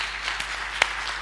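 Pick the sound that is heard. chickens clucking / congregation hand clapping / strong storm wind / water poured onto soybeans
congregation hand clapping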